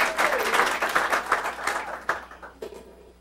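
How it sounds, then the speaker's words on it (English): Brief, scattered applause from a school committee meeting audience, a handful of people clapping at moderate volume before it quickly trails off. "Elaine, you can clap."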